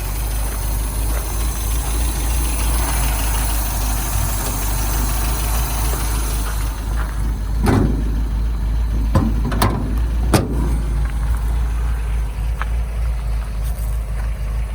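A 1974 MGB's small 1.8-litre, roughly 94-horsepower engine idles steadily up close, a constant low rumble with a few brief clicks and knocks partway through.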